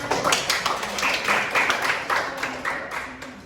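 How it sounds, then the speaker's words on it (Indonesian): Elementary school pupils in a fifth-grade civics class clap for their classmates, a lively, uneven burst of small hands clapping nearby, continuing throughout. "Beri tepuk tangan untuk teman-teman."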